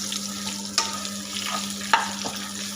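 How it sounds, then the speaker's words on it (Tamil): Bitter gourd sautés in a pan with a steady soft sizzle over a constant low hum, and two sharper stirring clanks stand out. "இந்த பாவக்காய் வந்து நல்லா இந்த பச்சை வசனை போகிற வேணும் வதக்கிக்கலாம்"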